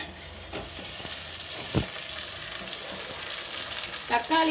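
Onions sautéing in a pan for fish kuzhambu give a steady, soft sizzle with a few faint scraping stirs, close and alone without talk.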